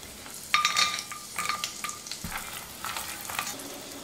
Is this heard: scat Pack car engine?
no